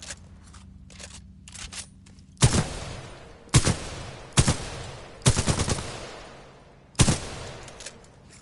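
Gunfire at a shooting range in a PS4 video game: a series of loud, sharp single shots spaced about a second apart, each with a short decaying tail, preceded by softer mechanical clicks of loading.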